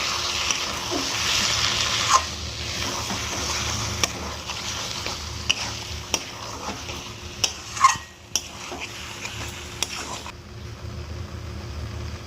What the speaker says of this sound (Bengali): ময়দাটা দেওয়ার পর আর একটু নেড়ে নেবো